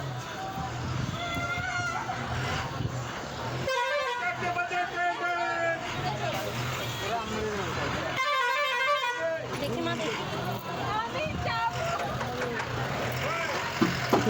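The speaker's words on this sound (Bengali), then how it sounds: "বাস দাঁড়িয়ে আছে দেখতে পাচ্ছ বাস হর্ন দিচ্ছে" A bus stands near a river crossing and sounds its horn in several bursts of honking among busy street noise, with people talking nearby and a babble of voices.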